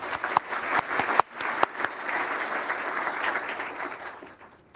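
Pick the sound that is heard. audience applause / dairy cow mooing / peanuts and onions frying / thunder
audience applause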